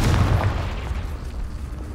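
The Confringo fire spell in the video game Hogwarts Legacy goes off as a deep, rolling explosion, a heavy low boom that fills the whole moment and rumbles on steadily without pause.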